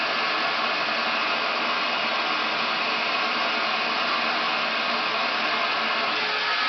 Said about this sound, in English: always remember to blow dry where your roots are because that's what's going to give it volume